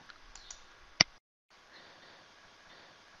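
A computer mouse gives one sharp, close click over faint desk noise, followed by a brief dead silence and then a soft background hiss.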